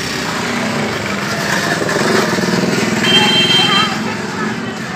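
A weed tiller machine with a heavy-duty gearbox, heavy-duty tyres, two forward gears and one reverse runs steadily, its close, continuous engine drone holding fairly even with a slight rise midway, a voice faintly present over it.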